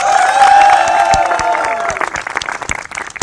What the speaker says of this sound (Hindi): शेर खान के लिए सच में जरा भरपूर तालियां।